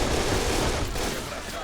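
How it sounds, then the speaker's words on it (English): Machine gun fire in a WW2 video game, a dense continuous clatter of rapid shots over a brief noisy stretch, loud and mixed with battlefield noise. "Not the first time you're told to charge against enemy machine gun fire."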